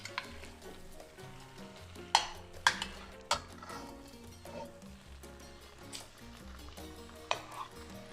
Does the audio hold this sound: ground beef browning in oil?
yes